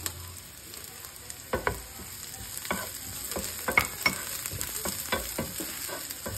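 Steady sizzle of oil frying in a pan before curry leaves go in, for Telugu alasanda gudalu (black-eyed peas), with repeated sharp scraping clicks of a spoon stirring against the pan, no voices.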